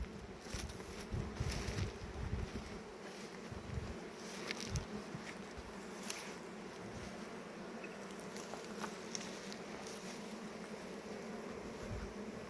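Bees buzz in flight around a beehive near pasture, a faint, continuous hum with soft patter and rustle, no talking.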